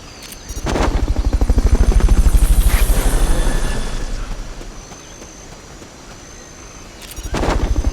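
A video game helicopter's rotor thumps loudly, swelling up close then fading into the distance before returning near the end; no voices. From Metal Gear Solid: Peace Walker.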